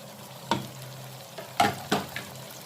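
Tomatoes and peppers cooking in a pan for a fish tagine, a soft low sizzle broken by a few distinct scraping stirs of a utensil against the pan, close and fairly quiet.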